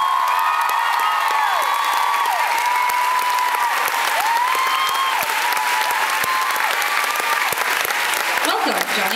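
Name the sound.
audience applause at a concert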